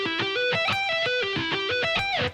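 Rapid electric guitar arpeggios skipping between strings, crisp picked notes cycling in quick repeating patterns, loud and close with no talking.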